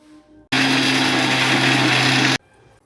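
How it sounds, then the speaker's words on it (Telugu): Mixer grinder whirring loud and steady as it grinds semolina with jaggery for a sweet, starting abruptly and running for about two seconds before cutting off, with a quiet room on either side. "రవ్వ కూడా వేసుకుంటున్నాను. వేసుకొని గ్రైండ్ చేసుకోవాలి."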